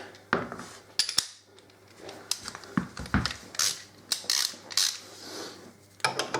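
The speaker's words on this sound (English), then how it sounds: "So, get my ratchet." Ratchet being worked on a bolt during maintenance of a Suzuki DL1000 V-Strom motorcycle, giving a series of sharp, close metallic clicks and clanks in irregular bursts, with light handling noise between them and no talking.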